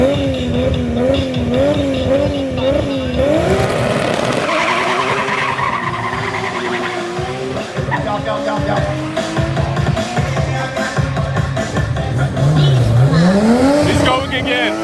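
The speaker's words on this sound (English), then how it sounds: "did you see on the launch how bad he spun in first gear?" A Nissan R34 GT-R launches hard with its tyres spinning in first gear, giving loud screeching squeal and engine revving. Wavering tyre howls rise and fall, and people talk over the noise.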